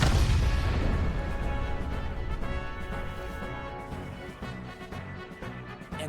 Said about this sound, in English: the burning fuse inside the body reaches the explosives.